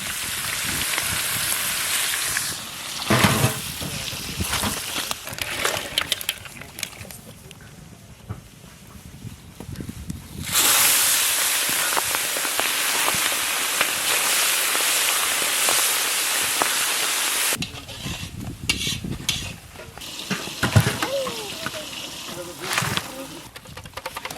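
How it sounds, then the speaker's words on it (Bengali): Large prawns fry lightly in a pan, giving a loud, continuous hissing sizzle that comes in long surges and then dies back, with stirring scrapes between the bursts. "হালকা করে আমরা একটু ভেজে নিলাম।"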